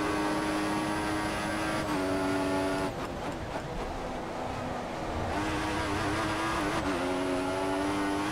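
Williams Formula 1 car in F1 2014, racing at the Austrian Grand Prix: a loud, high-pitched engine whine rising through the revs, with sharp gear shifts and a brief dip mid-lap, no voices.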